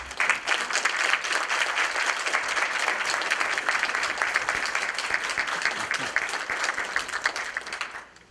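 An audience welcomes author Dr. John Jarvis with sustained applause, dense clapping that holds steady and loud for about eight seconds before fading out at the end.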